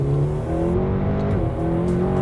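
A McLaren Speedtail accelerating hard, its engine a loud, continuous rising roar with harmonic whine that holds close and strong throughout, with no talk.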